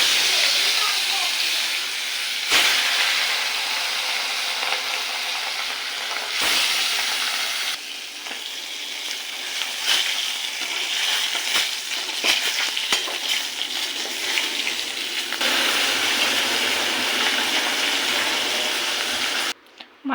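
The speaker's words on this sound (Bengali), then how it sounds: "তেলের ওপর মাছটাকে ভেজে নেব।" Rohu fish sizzles and hisses loudly in hot oil in a kitchen pan, a continuous close frying crackle broken by a few sharp dips as pieces are moved or turned.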